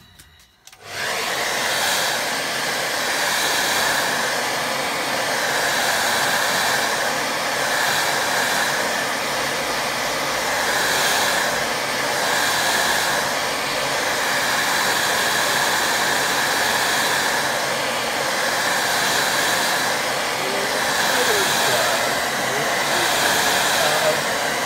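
A hair dryer blasts over a watercolour painting of a woodland scene, switching on after a moment and then roaring loud and steady at close range for over twenty seconds with no talking.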